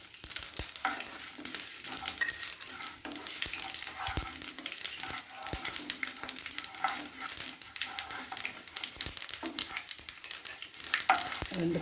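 Fennel seeds fry in hot oil for snake gourd kootu, a steady crackling sizzle with scattered sharp pops and stirring scrapes, close and fairly quiet throughout.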